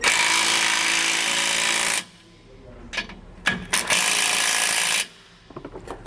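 A power tool tightens the bolts on SumoSprings Rebel custom helper springs on a 2020 Thor motorhome, whirring hard in two loud, steady bursts separated by short pauses filled with clanks and handling noises.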